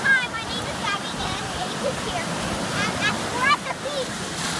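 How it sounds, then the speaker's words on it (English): Ocean waves wash steadily at a beach with big, rough surf, making a continuous broad roar with wind buffeting the microphone, while a voice is faintly audible over it. "And we have these humongous tough waves over here that we're going to boogie board with."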